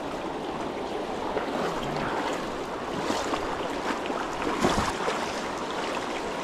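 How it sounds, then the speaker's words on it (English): A river flows through a forest, giving a steady broadband rush of moving water that holds at an even, fairly loud level throughout, with a few slightly stronger splashy surges and no voices. "And here we are, back on the river."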